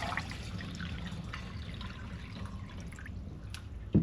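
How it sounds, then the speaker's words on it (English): Water drips faintly from a measuring cup holding a liter, a soft quiet trickle and patter against low background noise, ending with a sudden close knock. "a little bit of drippage"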